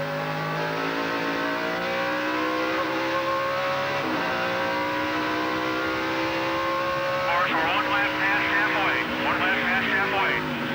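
Onboard a Busch Series stock car on a road course during the 2001 GNC Live Well 200, the engine drones loud and steady with throttle feathering through an S-bend, pitch dipping and rising while a commentator talks over it.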